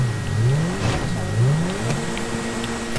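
Car engine in GTA while drifting on a snowy street, a loud, close revving whose pitch swoops up and down repeatedly as the car slides, running continuously throughout.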